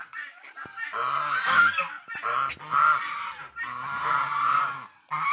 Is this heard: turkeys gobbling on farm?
yes